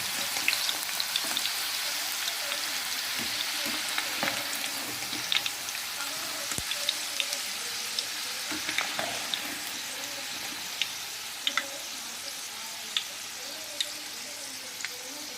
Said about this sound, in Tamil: இப்போ நம்ம இதே மாதிரி நம்ம வச்சுருக்க எல்லா ஃப்ரெஞ்ச் ஃப்ரை கட்டிங்ஸையும் ஃப்ரை பண்ணி எடுத்துக்கலாம்.